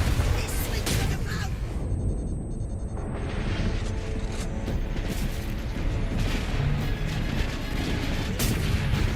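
Incoming artillery fire in the Warhammer 40k: Space Marine video game, a sustained barrage of loud rumbling blasts and gunfire with a brief lull early on, persisting as heavy battle noise.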